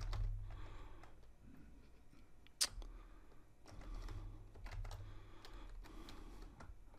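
Soft bursts of typing on a computer keyboard while entering data into a spreadsheet, quiet clustered keystrokes with a sharper click between them and low background hum.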